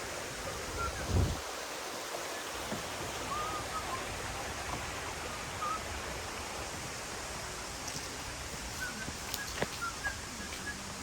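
Water pours steadily over Kaskazi sand falls in a continuous broad rush, with faint birdsong chirping now and then over the constant roar.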